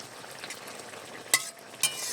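Cumin and chili powder fry in a pan with a soft, steady sizzle under scraping stirs, and two sharp utensil clinks stand out against the pan near the end.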